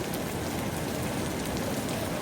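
Continuous rain falls steadily as a dense, even hiss of drops on surfaces, close and unbroken, with no voices.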